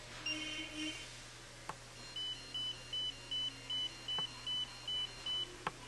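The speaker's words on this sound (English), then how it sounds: "it's giving you multiple beeping sounds" A barcode scanner signals a read error: a rapid run of about a dozen short, identical electronic beeps in an even rhythm, preceded by a few softer tones and faint clicks.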